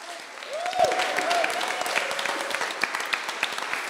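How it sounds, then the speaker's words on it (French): An audience claps for a team of four being introduced at a Le Wagon demo day in Paris, a steady crowd applause filling the room for the full stretch while a host's voice briefly rises over it. "On applaudit."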